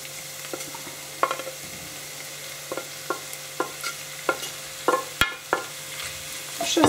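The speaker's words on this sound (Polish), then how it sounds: "Wszystko przemieszam i odrobinkę podsmażę, ale nie za długo." White sausage and softened onions fry in a pan while a spoon scrapes and stirs them in a regular rhythm of knocks over a low, continuous sizzle, heard up close without speech.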